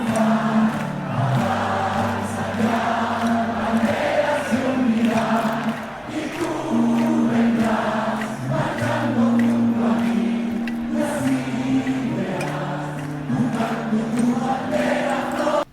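A large crowd sings a song together, a loud, dense chorus of many voices carrying a steady melody with a strong rhythmic pulse throughout.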